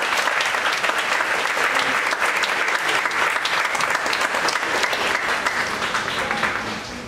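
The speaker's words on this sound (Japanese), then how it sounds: "ゲストポーザーにもう一度盛大な拍手をお願いいたします" Loud, sustained applause from a sizable crowd at a bodybuilding contest fills the whole stretch, thick and even before tapering slightly at the end.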